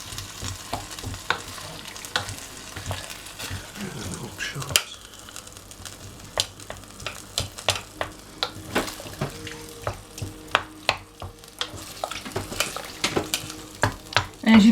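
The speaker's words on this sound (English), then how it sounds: "we've chopped up the onion and the tomatoes as much as we can, and then we're going to stir them in." Chopped onion and tomatoes stirred into chilli con carne in a pot: repeated close scraping and clinking of a spoon against the pan with a soft wet sizzle, the strokes growing busier and more rhythmic toward the end.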